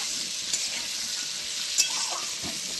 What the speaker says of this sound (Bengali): আলুটাকে ভেজে নেব